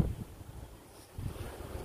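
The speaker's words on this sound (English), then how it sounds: "It is windy," Wind blowing outdoors on a cool day, rumbling against the microphone in low gusts that dip briefly and then pick back up, with no talk.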